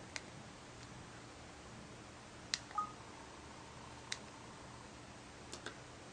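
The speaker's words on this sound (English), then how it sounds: "you're going to be using the dial pad here to enter in a text message" A Samsung T659 phone keypad sounds faint, sparse clicks and a short beep as a text message is typed with T9, with long quiet gaps between presses.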